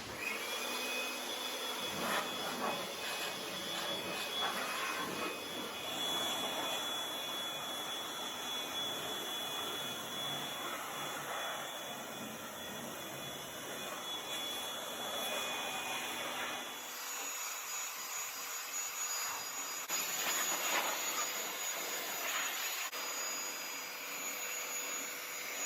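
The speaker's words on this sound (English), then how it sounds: "I have used a blower to blow off all the loose dust which was accumulated on the engine." A steady, loud whooshing roar of an air blower cleaning dust off a Skoda Rapid's engine bay runs continuously, with a high whine, shifting slightly in tone partway through.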